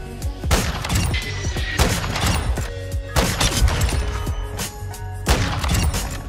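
Long-distance crossbow shots in a shooter video game, heard as repeated sharp bursts and booming impacts spaced every second or so over a steady layer of game noise, loud and close.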